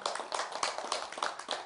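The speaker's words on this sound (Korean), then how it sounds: "뜨거운 박수 부탁드립니다" An audience at a Buddhist monk's dharma talk in Jeju gives a brief round of applause, with fairly quiet, scattered hand claps in an uneven patter and no voices.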